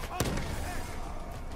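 A grenade blast in the shooter Call of Duty Black Ops 3 lands as one sharp, heavy thump, then a rumbling wash of battle noise trails off behind it.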